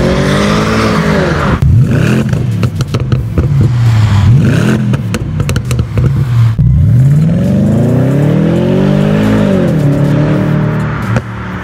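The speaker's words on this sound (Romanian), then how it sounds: "tobele se aud și în interior" A BMW 650i E63 with a 400 hp V8 roars during a test drive, its exhaust loud and close with repeated revving surges, gear-change dips and deep, burbling acceleration.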